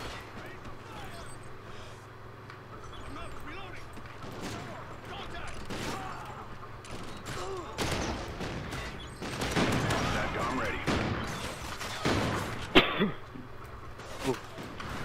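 Gunfire from the shooter video game Call of Duty Ghosts plays as a steady, dense stream of shots and bursts, growing louder and busier in the second half, with game sounds layered throughout.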